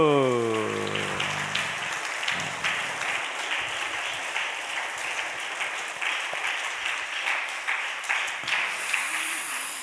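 A church congregation applauds together during Sunday worship, a dense, steady wash of many hands clapping that lasts throughout, briefly overlapped by a voice at the start.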